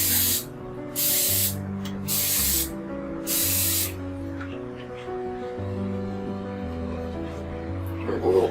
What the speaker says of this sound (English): go ahead and spray the inside